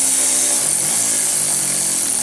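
A powered ratchet runs steadily on a bolt on the rear suspension arm of an AWD EG car being fitted with FCS tubular rear arms, giving a continuous close whirring buzz with no pauses.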